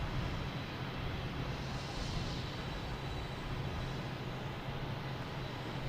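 United Airlines Boeing 737 MAX 8 airliner arriving at Boston Logan Airport, a steady broad engine roar heard from a distance, fairly constant in level throughout without voices.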